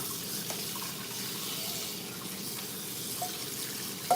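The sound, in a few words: water running while washing cabbage with homemade veggie wash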